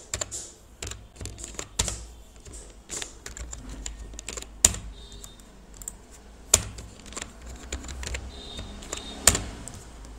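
Someone types basic HTML tags on a computer keyboard, producing irregular bursts of close, crisp key clicks with a few sharper, louder strikes and brief pauses between runs.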